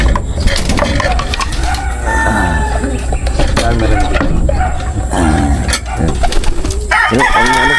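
Pigeons in a loft with a rooftop viewing deck, including flyers and young birds: dense, close cooing and fluttering calls overlapping continuously, with a rooster-like crow and people talking in the mix.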